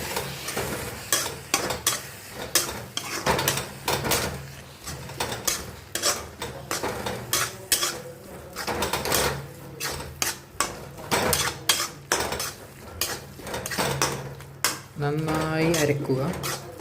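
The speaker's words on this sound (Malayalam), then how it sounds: "നമ്മളിതിൽ മല്ലിപ്പൊടി, മുളക് പൊടി, ചിക്കൻ മസാല, ബിരിയാണി മസാല ഇട്ട് നന്നായി വഴറ്റി കൊടുക്കുക." Onions sautéing with coriander powder, chili powder, chicken masala and biryani masala in a pan, with repeated sharp stirring scrapes and clinks over a constant soft sizzle, close up.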